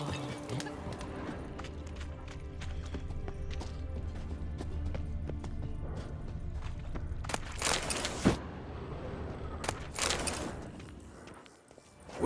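A horse gallops in The Witcher 3 video game, with steady rhythmic hoofbeats close up under ambient game sound, followed by a few sharper knocks and a fade near the end.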